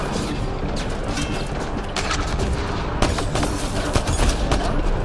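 Rapid gunfire rattles with heavy grenade blasts in a Mass Effect Andromeda firefight, dense crackling bursts layered over booming impacts, loudest near the end, with a brief voice faintly under the action.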